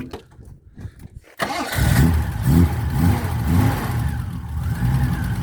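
A 1983 Ford Cortina Mk5 engine cranks and catches after a quiet pause, then revs up and down in repeated loud surges before settling into a steady rumble, close by at a classic car auction.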